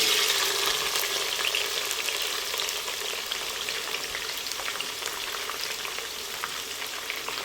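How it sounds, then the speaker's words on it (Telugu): Onions, a full cup, sizzle steadily in heated oil for the Naatu kodi eguru chicken dish, a dense, even frying hiss close by with no voices. "ఆయిల్ హీట్ అయిందండి. ఇందులో మనం 1 కప్పు ఆనియన్స్ వేసుకుందాము"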